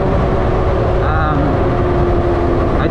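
Constant rumble and wind roar from a Super 73 electric bike running while being ridden, dense and close, with a brief faint tone partway through.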